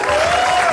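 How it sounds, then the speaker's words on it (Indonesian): A brief burst of applause from a comedy talk show studio audience, steady clapping with no pause. "tepuk tangan dulu dong"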